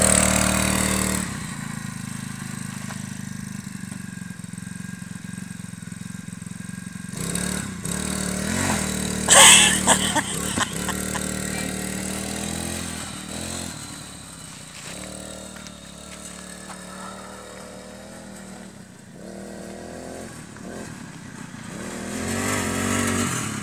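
A scooter engine on a ride, revving and settling repeatedly, fairly close and loud, with pitch rising and falling as it accelerates and slows, alone without speech.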